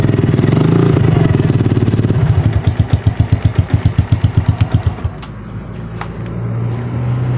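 A Yamaha Vega motorcycle engine idles loudly up close, then slows into distinct chugging pulses and sputters to a stop when switched off, leaving a faint hum.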